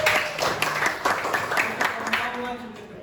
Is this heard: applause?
yes